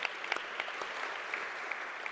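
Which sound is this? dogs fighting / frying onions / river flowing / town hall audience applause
town hall audience applause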